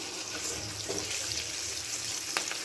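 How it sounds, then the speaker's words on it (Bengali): Chili powder and coriander powder are stirred in a hot frying pan over a steady sizzle of oil, with a spatula scraping now and then and one sharp tap near the end. No one speaks. "এবার এটাকে ভালো করে একটু নেড়ে চেড়ে নিয়ে"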